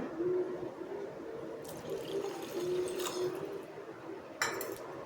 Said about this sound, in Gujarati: હવે આપણે નાખીશું એમાં ગરમ પાણી।